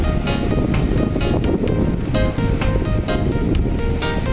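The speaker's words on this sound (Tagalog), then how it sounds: "ngayong hibas ayan maliliit naman ang alon" Steady rushing surf from small waves, mixed with wind buffeting the microphone; continuous and fairly loud, with no voices.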